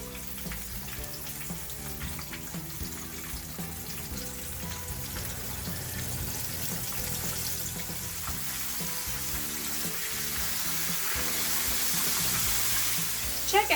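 Chicken breast pieces, dredged in flour, fry two at a time in a frying pan, giving a steady, moderately loud sizzle that holds throughout and builds slightly toward the end, with background music underneath.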